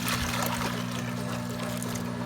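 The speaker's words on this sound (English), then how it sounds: "you're gonna pour the water right on top of the bananas" Boiling water poured over green plantains makes a steady, close splashing rush over a low electrical hum, continuous and fairly loud with no speech.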